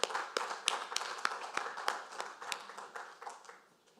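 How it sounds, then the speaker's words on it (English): Conference audience at a trade-fair panel applauding the panelists: fairly quiet, scattered clapping with sharp individual claps standing out, gradually thinning and fading toward the end. "Round of applause for our panelists."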